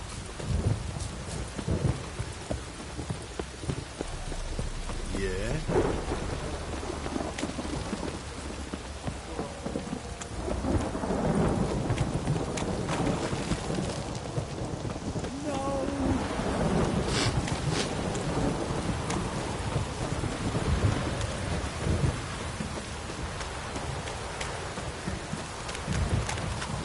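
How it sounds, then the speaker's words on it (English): In Witcher 3, a heavy downpour hisses continuously while deep rolls of thunder rumble through the middle, loud and enveloping, with wind gusting over the steady rain. "This downpour's a bastard, it is."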